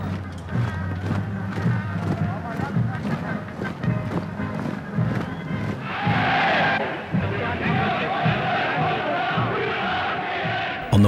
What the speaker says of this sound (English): Adolf Hitler leaves Hotel Kaiserhof in Berlin among a cheering crowd of supporters